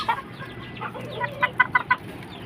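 A five-month-old Kannawayon chicken that cannot stand clucks nearby in a short series of sharp, rhythmic clucks that grow brisker toward the end, with no voices.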